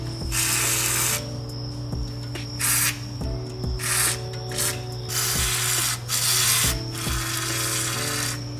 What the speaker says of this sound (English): Now I'm just gonna go and absolutely soak these bolts with PB Blaster.